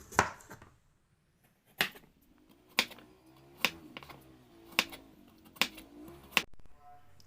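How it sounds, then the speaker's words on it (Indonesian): A knife chops carrots on a cutting board in a home kitchen, about eight sharp, separate knocks at irregular intervals, close and fairly quiet, with no speech. "Potong wortel sesuai selera."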